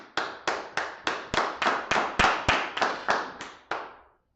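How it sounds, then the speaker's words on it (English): A group claps in a slow, even rhythm, about a dozen loud, sharp claps in a row at a church Passover gathering, each one ringing briefly before the next, with no voices. "clap it up"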